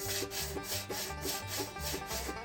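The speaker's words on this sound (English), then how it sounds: "Let's take the sandpaper on it and reveal" Sandpaper is rubbed back and forth over body metal while revealing high spots during a hammer-and-dolly restoration of a Ford F600 grille, giving close, rhythmic scratchy strokes about four times a second with no talk.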